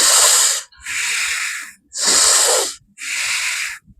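Breathing-exercise exhalations through one nostril, held closed by the thumb on the other side: four close, loud, airy bursts of breath, each around a second long, separated by short pauses, no talking.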